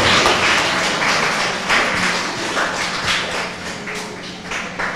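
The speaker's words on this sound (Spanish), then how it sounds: "Un aplauso para la directora de la institución educativa" A crowd at a school supplies handout event in Talara applauds the director of the educational institution. The clapping is dense, loud and continuous, with scattered sharper taps.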